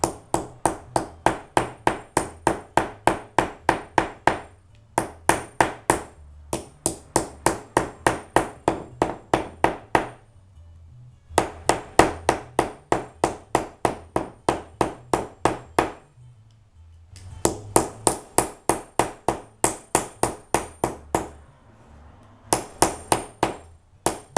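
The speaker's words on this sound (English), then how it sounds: "you just take the hammer," A hammer pounds sinew steadily in fast, even bursts of sharp thudding strikes, pausing briefly between runs, close up and loud with no voices.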